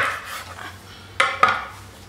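A knife cuts through a young poivrade artichoke, giving two sharp, close crisp cuts in quick succession after a quieter stretch of faint handling.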